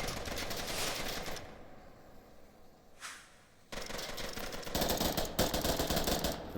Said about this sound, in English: Shots on all sides.